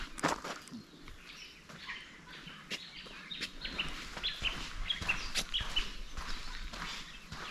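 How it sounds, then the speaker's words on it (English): Several small sparrow-like birds chirp and twitter in bursts across an open outdoor space on a lake loop trail, fairly faint over a soft background rustle and occasional footsteps. "Starting to hear a fair few birds now that we weren't hearing too much before."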